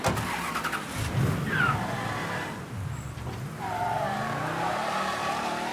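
A car in the Mafia 3 Definitive Edition game drives with its engine humming and tires squealing through skids, a steady motor drone under repeated sliding screeches, close and moderately loud.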